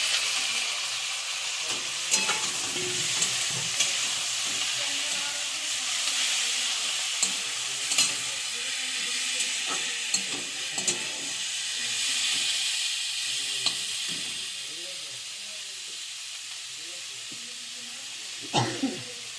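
Minced chicken frying in a pan with onion, garlic and ginger for cabbage-chicken momo, a strong steady hiss and sizzle with occasional scraping stirs, close by.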